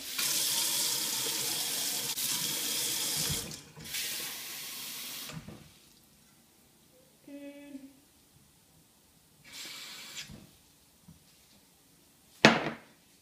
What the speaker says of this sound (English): I'm going to get 1 cup of as cold as water as you could get and pour it into the Jell-O.